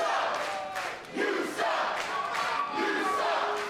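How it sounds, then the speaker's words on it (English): Lucha-style wrestling crowd at an MLW Fusion show jeering a wrestler, a loud sustained roar of many voices surging in waves with chants rising and falling throughout. "And this crowd is none too pleased with Magnus either."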